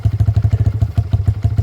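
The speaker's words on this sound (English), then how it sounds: "give it a couple revs" A 2020 Kawasaki KLX110 fitted with a 143cc big bore kit runs nearby during break-in, its single cylinder thumping in a fast, loud, even pulse with a slight rise in pace.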